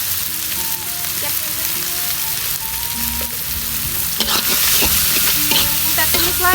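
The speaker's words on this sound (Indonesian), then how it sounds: "Kita tumis lagi sampai harum bumbunya." Salted fish, tempeh and eggplant stir-fried in a pan with seasoning, steady loud sizzling with scraping and clanking of a spatula stirring, growing busier toward the end.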